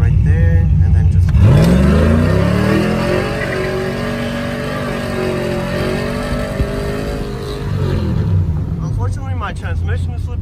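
A truck with a cammed 5.3 V8, new exhaust and a slipping transmission accelerates hard, its loud close engine note rising steadily in pitch, then easing back to a rough burbling idle, with someone talking over it.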